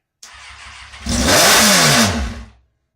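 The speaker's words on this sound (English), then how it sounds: "It's dying because I'm letting off the throttle." A Kawasaki ZX6R motorcycle engine idles roughly, then revs up loudly and close for about a second before the pitch sinks as the throttle is released and the engine dies away.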